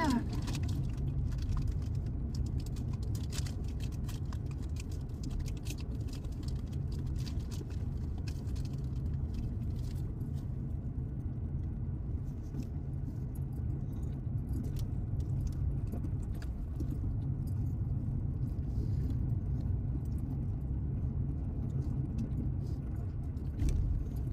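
A car drives along a road, heard from inside the cabin as a steady low rumble and road hum that holds constant throughout, with light rattles over it.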